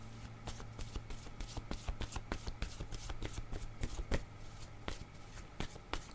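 A deck of cards shuffled for a French card reading, a steady run of quick riffling bursts close to the mic, alone, with no voices.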